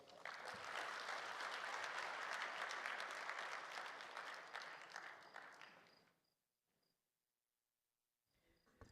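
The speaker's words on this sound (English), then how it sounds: "That energy deserves another better round of applause." Loud, sustained crowd applause at the African Human Resources Summit fills the hall for about six seconds, dies away into near silence, then a fresh burst of clapping starts at the very end.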